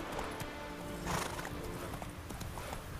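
Geralt's horse Roach from The Witcher 3 walks with steady clip-clop hoofbeats, plus a whinny or snort partway through, heard close and clear with no talking.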